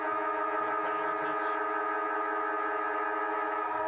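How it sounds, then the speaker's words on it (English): A loud, steady half-time siren blares for several seconds at an Australian rules football match, a sustained droning tone, with faint crowd noise and a voice briefly underneath. "Siren sounds for half-time here."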